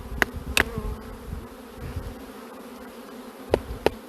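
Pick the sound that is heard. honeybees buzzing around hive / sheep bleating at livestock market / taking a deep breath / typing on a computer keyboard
honeybees buzzing around hive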